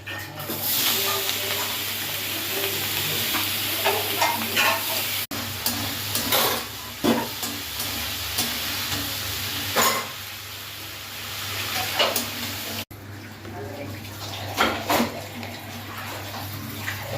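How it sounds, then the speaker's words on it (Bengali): Prawns frying in a pan for an egg and prawn biryani, a steady close sizzle with bursts of stirring and scraping through it, and a brief cut partway. "এবার চিংড়ি মাছটা ভেজে নেবো"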